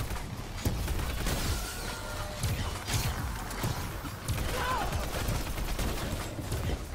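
Gunfire in a horror video game, scattered sharp shots and short bursts over several seconds amid mechanical clatter and background game noise, moderately loud throughout.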